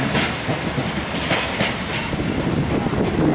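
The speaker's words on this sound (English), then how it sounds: "Trains crossing the current Torrens Junction right now." A train rumbles past close by across Torrens rail junction in Adelaide, wheels clattering rhythmically over rail joints with a steady roar throughout.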